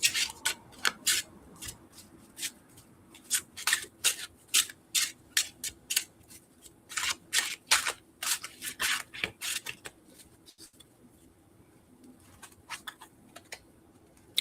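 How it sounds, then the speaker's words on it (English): Tarot cards shuffled by hand in a long run of crisp riffling snaps and soft rubs, steady and close, with pauses near the end. "Just gonna shuffle a little bit and split the deck."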